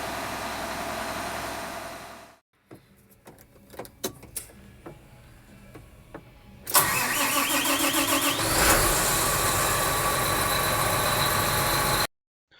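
Inside the cab of a John Deere 8370R tractor after a fan-drive fire, a steady hum cuts out, then clicks and ticks lead to the engine cranking and catching into a loud, even idle up close.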